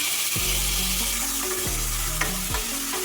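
Marinated mutton sizzles loudly in a hot pan as it is sautéed, a continuous crackling fry punctuated by several sweeping scrapes of a spoon stirring the meat, with no voices.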